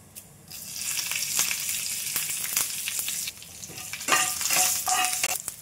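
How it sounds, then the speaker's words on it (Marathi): Mustard seeds, cumin, asafoetida and curry leaves fry in a spoonful of hot oil in a kadhai, giving a steady close sizzle with crackling pops that flare louder near the end. "तेलात मोहरी टाकून घेऊ, जिरे, थोडासा हिंग, कढीपत्त्याचे पाने थोडं तोडून टाकू."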